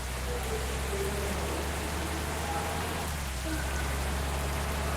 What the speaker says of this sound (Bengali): বৃষ্টি আসছে, কি সুন্দর।